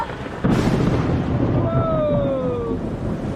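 Lightning makes a direct hit on a boat's mast: one sudden, very loud bang followed by a sustained roaring rumble, with faint whistling tones drifting through it.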